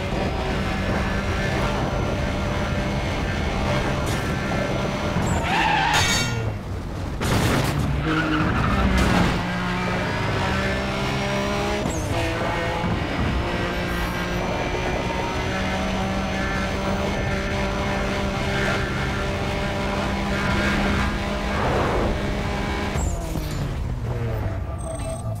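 A Nissan 2000GT-R (C10) racing engine in the video game Need for Speed World roars and revs continuously, with gear shifts and tire squeals, steady and loud throughout.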